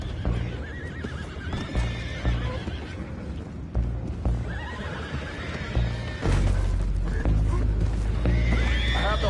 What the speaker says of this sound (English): I have the horses under control.